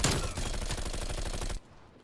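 Rapid automatic gunfire from a Call of Duty Cold War match, a loud sustained burst of closely spaced shots lasting about a second and a half before cutting off into a quiet tail.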